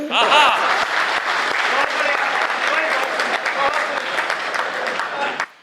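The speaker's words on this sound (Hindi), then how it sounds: "गलत जगह ताली बजा रहे हो।" A large audience at a Hindi kavi sammelan poetry recital gives loud, sustained applause. The dense clapping fills the room and ends abruptly, with some voices mixed in.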